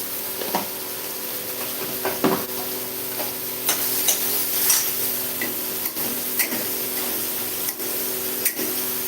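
Fresh curry leaves and turmeric powder sizzling in hot oil in a pan, a steady crackling hiss with scattered pops and occasional stirring scrapes, fairly close.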